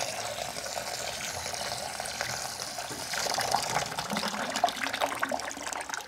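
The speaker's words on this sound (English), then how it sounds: "Most of the water is coming out the drain, well, all of it right now." Water rushes out of the drain line of a GrowoniX EX1000 reverse osmosis filter at about 25 psi, a steady hissing flow that grows a little louder and more gurgly partway through, with no talking.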